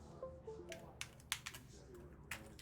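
Computer keyboard typing during a livestreamed game session, with scattered sharp key clicks at irregular intervals over a low steady background hum, close and fairly quiet.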